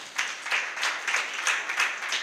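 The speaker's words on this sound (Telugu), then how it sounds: "అందరూ ఇప్పుడు గట్టిగా చప్పట్లు కొడదామండి." A congregation claps loudly at a church thanksgiving service, a brisk run of rhythmic group claps pulsing together at close range for a couple of seconds with no talking.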